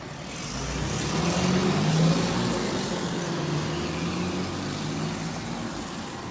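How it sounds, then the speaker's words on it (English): A white truck passes nearby on a road, a steady broadband rumble swelling and then easing off over several seconds, with no talk. "And then the white truck drove by me."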